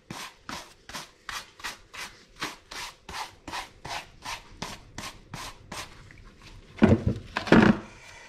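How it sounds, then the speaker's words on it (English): A soft bristle brush scrubs dirt off the fabric upper of a shoe in quick, even strokes, about two per second and close by, ending in a few louder, harsher rubs. "I'm going to remove excess dirt using my soft bristle brush"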